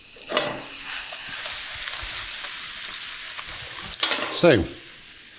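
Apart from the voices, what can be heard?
ceps mushrooms frying in a pan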